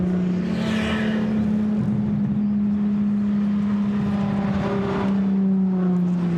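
BMW 635 CSi Group A racing car circuiting Goodwood, a steady loud engine drone with a low constant note and a slight rise toward the end, no voices.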